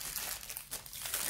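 Plastic packaging from an eBay parcel crinkled by hand during unboxing, a steady close rustling and crackling that fills the short moment.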